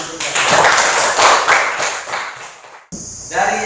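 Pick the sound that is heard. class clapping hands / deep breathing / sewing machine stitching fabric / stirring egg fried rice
class clapping hands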